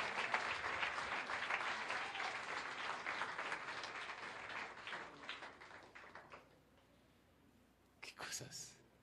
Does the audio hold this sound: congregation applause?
yes